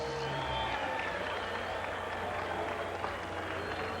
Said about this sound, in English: Applause for one very game young fighter here.